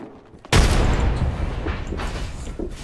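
Frag grenade blast in Apex Legends: a sudden loud boom that erupts near the half-second mark, then a sustained rumble of gunfire and crashing debris carrying on to the end, with no speech.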